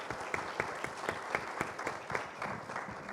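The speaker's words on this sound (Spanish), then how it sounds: "les pido un aplauso para nuestras panelistas" An audience applauds panelists at an education conference on AI, a full, steady round of clapping with distinct sharp claps standing out, heard alone at moderate distance.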